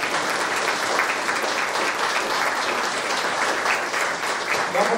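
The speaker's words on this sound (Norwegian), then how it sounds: "Vi får klappe for dem, da." Audience applause for blues musicians at a Norwegian music festival, a dense, steady wash of clapping sustained for the full stretch at even loudness with no gaps.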